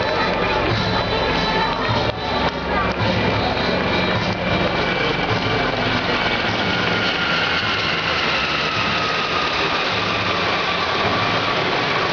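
Military Gazelle helicopters pass over at an officers' promotion ceremony, a loud steady broadband engine and rotor roar that fills the whole stretch, with crowd murmur and faint voices mixed beneath.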